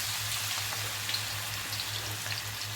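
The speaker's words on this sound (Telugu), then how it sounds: "నూనె వేడైన వలే ఇందులో చిన్న చిన్న ముద్దలు వేసుకోవాలి" Small lumps of onion pakoda batter fry in hot oil, giving a steady, close crackling sizzle with scattered pops and a low hum running underneath, and no voices.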